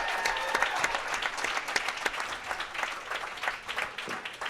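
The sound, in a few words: audience applause for bowling runners-up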